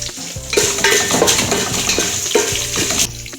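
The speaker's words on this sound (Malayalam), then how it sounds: "കൂടെ 3 പച്ചമുളക് ഇട്ട് കൊടുക്കുന്നുണ്ട്." Green chilies hitting hot oil in a pan for tomato rice, a short busy spell of sizzle mixed with metallic clinks of a spoon against the pan, close and fairly loud, with no talking.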